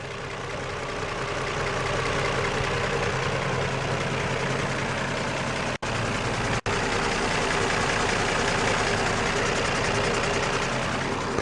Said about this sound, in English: Pretty sure that noise I'm hearing is injector noise